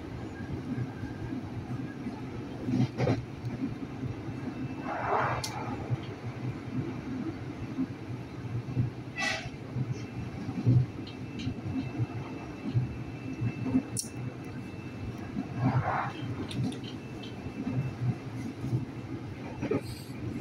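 Inside a new CRRC Qingdao Sifang KRL commuter train running on its route, a steady low rumble fills the quiet cabin, with faint occasional squeaks and clicks.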